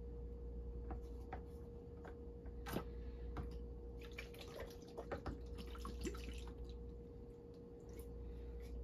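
Water trickles and drips while a gold pan is rinsed out during prospecting. A steady hum of water runs throughout, with splashes and drips scattered over it and no talking.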